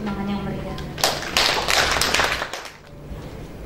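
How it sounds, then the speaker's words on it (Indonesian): Audience applause for a university rector at an academic career workshop: a brief burst of scattered clapping rises and fades over a couple of seconds in a hall, following a voice on a PA. "Mari kita sambut dengan tepuk tangan yang meriah."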